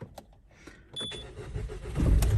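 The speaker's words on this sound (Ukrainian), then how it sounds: "Все, машинка завелася, все добре, все чудово." A Fiat car is started with its original key: faint clicks and a short electronic tone come first, then the starter cranks and the engine catches into a building, close idle rumble.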